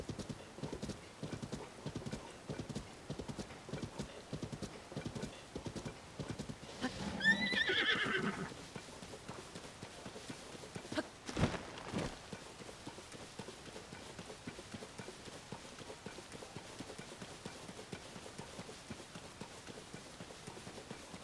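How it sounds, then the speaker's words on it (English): Horse hooves clip-clop steadily throughout in Tears of the Kingdom, with a bright whinny rising around the middle, all moderately faint and without talk. "I'll just set you free in the wilderness with other horses."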